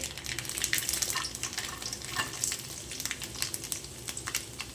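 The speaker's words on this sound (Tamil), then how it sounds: "நம்ம எண்ணெய் ஊற்றி கடுகு போட்டுட்டு இப்போ நம்ம காஞ்ச மிளகாய் வரமிளகா போட்டுக்கலாம்" Dried red chillies drop into hot oil with mustard seeds for a keerai poriyal, giving a steady close crackle and sizzle with scattered sharp pops throughout, and no voices.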